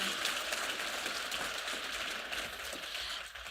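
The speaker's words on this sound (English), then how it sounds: "please give my panel a really, really resounding round of applause" A conference audience applauds a business panel, a broad, dense patter of clapping held steady at a moderate distance, with no voices over it.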